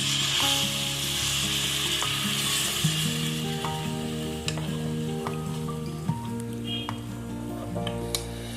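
Potato and capsicum masala sizzles and fries in a pan as water is added, a continuous crackling hiss with scattered pops and stirring scrapes throughout, close and fairly loud with no talk.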